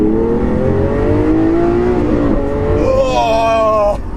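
A modified Lamborghini Aventador with 700 horsepower revs hard through the lower gears, loud and close, its engine note climbing steadily with a short-shift break, then rising again before a sharp cut at the end.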